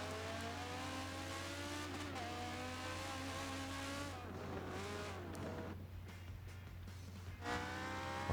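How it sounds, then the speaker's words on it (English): A Hurricane race car in a racing video game accelerating hard down a straight, the engine note rising steadily through the gears, with another car's engine blending in and fading toward the end over a constant low hum. "The Hurricane just takes off on straights, doesn't it? Just look at the speed."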